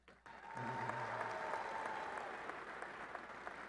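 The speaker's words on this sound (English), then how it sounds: "Please give them a round of applause." Audience applause at a Texas Tech University ring ceremony: steady clapping from a large indoor crowd starts abruptly and holds for several seconds, with a few brief voices underneath.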